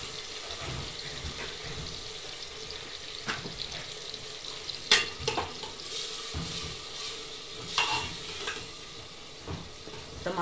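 Tomatoes and garlic-ginger paste for keema sizzle and fry in a pan, with stirring scrapes and occasional sharper clinks over a steady crackle, moderately quiet and close.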